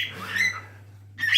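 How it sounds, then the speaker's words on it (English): Pet cockatiels meeting for the first time give sharp squawks and whistled calls in two short close bursts separated by a brief quiet gap, over a low steady hum indoors. "we've got a new bird to keep Floyd company"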